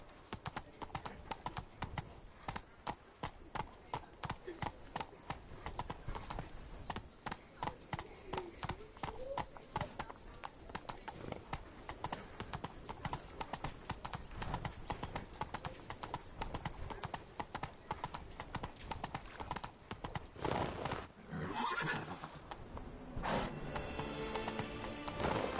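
The horse Roach gallops in The Witcher video game, a dense, rapid clip-clop of hooves running steadily for a long stretch, with faint neighing and game ambience, fairly quiet overall.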